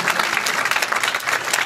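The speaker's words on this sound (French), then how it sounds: "Est-ce qu'on peut encore l'applaudir très fort," An audience applauds at a Senegalese commemoration of the 80th anniversary of the Thiaroye camp, giving a brief burst of loud, steady crowd clapping with no pauses.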